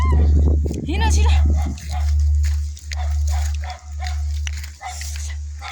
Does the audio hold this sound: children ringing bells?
no